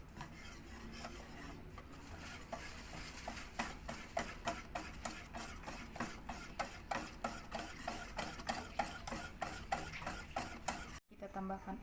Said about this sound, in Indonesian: Kemudian diaduk-aduk sampai tercampur rata.